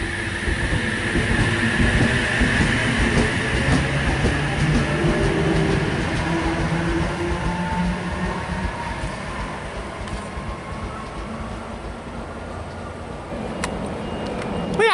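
A passenger train pulls away from platform 2 at Cowan on a Newcastle service, a loud, steady rumble of wheels and engine that fades slightly toward the end, with no talk over it.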